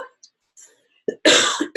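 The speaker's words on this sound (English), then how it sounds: "It looks like coughing." A person coughs nearby, a couple of harsh, loud bursts following faint scattered noises and a short earlier sound.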